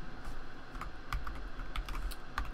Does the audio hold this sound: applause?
no